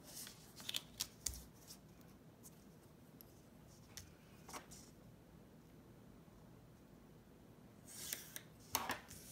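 Scissors snip through a paper mandala stencil in a few quiet, crisp cuts, with soft paper rustling and handling noises between them in a quiet room.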